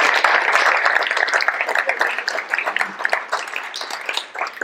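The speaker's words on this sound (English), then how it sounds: "So give yourselves a round of applause." An audience claps together in a dense burst of applause that gradually thins and fades toward the end.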